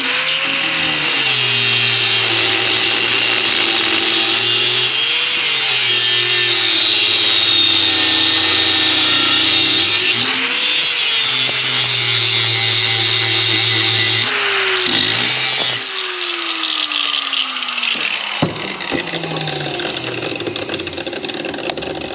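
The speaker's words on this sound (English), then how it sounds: "take a grinder and cut the excess off" An angle grinder cuts the excess threads off a bolt clamped with flat bar in a vise, a loud continuous high whine whose pitch rises and falls as the disc loads and frees, then spins down near the end.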